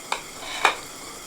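An omelette sizzles in a pan with a soft, steady hiss, broken by two brief scraping stirs about half a second apart.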